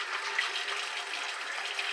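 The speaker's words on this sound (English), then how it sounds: "I'm going to wet my face a little bit" Steady running water, close and moderately loud, splashes continuously at a sink as a face is wetted before shaving.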